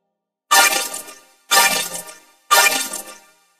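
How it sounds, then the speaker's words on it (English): Cartoon smash effect for a birthday cake being crushed: three identical loud crashing, shattering bursts, each about a second apart and fading quickly, with silence between and no talking. "I will be smashing your birthday cake."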